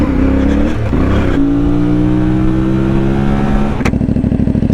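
A CF Moto 450 MT motorcycle on its standard exhaust revs loudly and close, the engine note rising and holding through sustained pulls before settling into a rapid, lumpy idle burble near the end.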